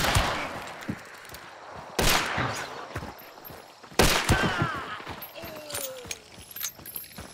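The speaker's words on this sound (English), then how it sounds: "There is another player shooting at me." Gunfire in Hunt: Showdown comes as three sharp, loud shots about two seconds apart, each trailing off in echo, with mechanical clicks and handling noises between them.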